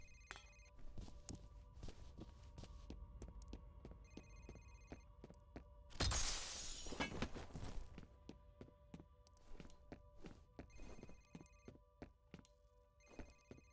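A telephone rings in the video game F.E.A.R., sounding as repeated electronic trills in a steady rhythm, with footsteps and thuds mixed in and a loud burst of noise partway through.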